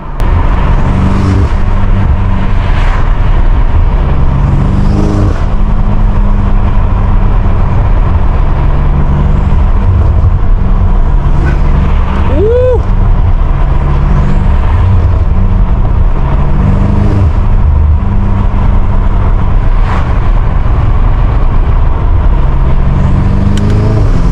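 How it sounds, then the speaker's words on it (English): A 700 hp BMW G80 M3 on backroads, its engine and intake drone steadily loud and close throughout, with rising and falling revs and a brief whooshing intake surge partway through, no talking. "I don't know if you guys can hear the G80's intakes"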